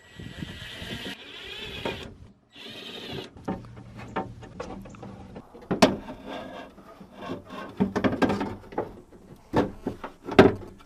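A window regulator being worked out of a car door on a 1999 Mitsubishi Montero, with close scraping, rubbing and sliding metal-on-panel sounds interspersed with sharp clunks and knocks, irregular and bursty, with no speech.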